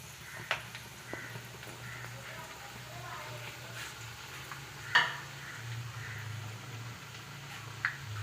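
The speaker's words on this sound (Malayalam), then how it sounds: "എണ്ണ ഒന്ന് ചൂടായതിനു ശേഷം നമുക്ക് ഷേപ്പ് ചെയ്ത് വെച്ചിരിക്കുന്ന വടയെല്ലാം അതിലോട്ട് ചേർത്ത് കൊടുക്കാം." Shaped vadas fry in hot coconut oil: a quiet, continuous bubbling sizzle with a few scattered clicks and one louder clack, and a voice faintly in the background.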